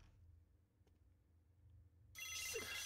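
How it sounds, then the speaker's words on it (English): A phone ringtone in the horror video game The Bridge Curse: Road to Salvation cuts in suddenly after a quiet stretch and rings loudly and continuously to the end. "Why is that your fucking ringtone?"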